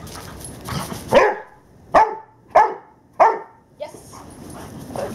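Dog barking on command in IGP/IPO protection training: four loud, sharp single barks spaced about a second apart, with a whimper between and a handler's voice heard briefly at the start.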